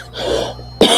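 A single short, harsh cough bursts out close to the mic near the end, after a brief quiet breathy stretch, with no talking.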